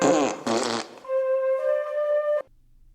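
A fart flute novelty instrument plays a buzzy, flatulent-sounding tone in a few bursts before settling into a sustained reedy note that cuts off abruptly, close and loud with no talk.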